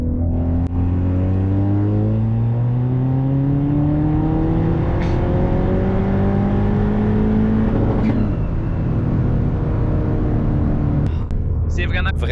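Ford Fiesta ST with a supplementary injection kit accelerating hard at full throttle, engine note climbing steadily through gear changes, loud and close from inside the car.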